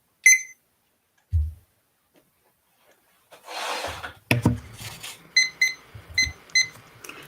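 An online debate round's timer alarm sounds: after a couple of isolated tones and some rustling, a run of rapid electronic beeps repeats in short evenly spaced bursts, clear and close.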